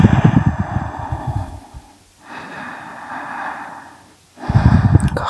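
Deep, close breathing during a Yin yoga session: a long, loud breath, a slower softer exhale, then another strong breath, unhurried and alone.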